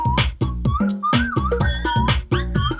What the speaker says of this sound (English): They're all whistle sound effects.